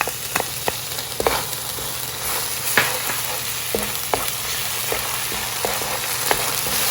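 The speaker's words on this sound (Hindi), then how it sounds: "तो थोड़ा सा भून लेंगे।" Garlic and ground ginger fry in oil in a pan, giving a continuous close sizzle with scattered clicks and scrapes as they are stirred.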